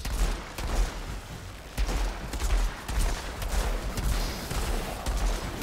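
Rapid gunfire from a weapon in the shooter game Outriders, a dense, continuous run of sharp shots with heavy low-end booms, loud and sustained throughout, with no talking.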